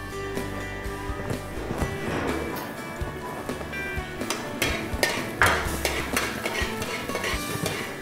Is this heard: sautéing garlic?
yes